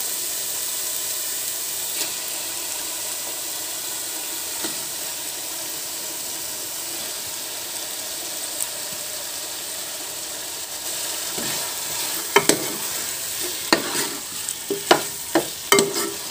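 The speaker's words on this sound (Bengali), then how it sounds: "এরপর দিয়ে দেব টক দই দিয়ে ম্যারিনেট করা চিকেনটা।" Yogurt-marinated chicken sizzles steadily in a hot pan for a Bengali chicken kosha, with a constant frying hiss and sharper clatters of stirring building near the end, close and fairly loud, without talk.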